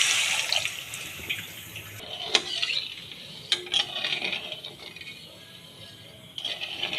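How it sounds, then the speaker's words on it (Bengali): Water splashes and pours into a cooking pot as a base for sugar syrup for rasmalai, a steady running stream broken by brief clinks and pauses, close and moderately loud. "ওই একই বাটির 2 বাটি পরিমাণ জল দিয়ে দেব।"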